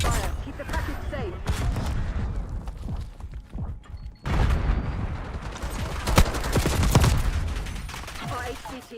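Dense, rapid video game gunfire rattles in bursts of overlapping shots and thumps, loud and continuous, with voices talking at times over the shooting.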